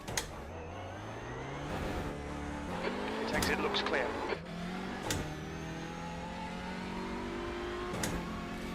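Audi TCR race car in a racing video game, engine revving up and down through several sharp climbs with clicks and bumps, under a brief line of speech.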